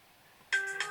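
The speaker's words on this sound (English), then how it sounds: "Oh, sorry about the phone going off there" A mobile phone ringtone suddenly starts up in a quiet room during card making, a bright chiming melody of a few notes that rings out clearly on its own.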